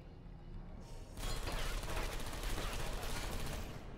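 Sustained automatic gunfire aimed at the player in the video game Portal 2 erupts after a second of quieter ambience, then continues as a dense, loud barrage to the end.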